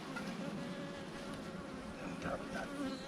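Honey bees buzz densely around an opened beehive, a steady, close swarm drone with no talk over it.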